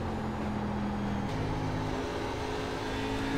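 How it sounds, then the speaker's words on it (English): An ARCA race car in the iRacing video game at New Hampshire, the engine droning steadily and dropping pitch briefly as it shifts gears, then carrying on without tire squeal. "So listen closely to the tires as he shifts."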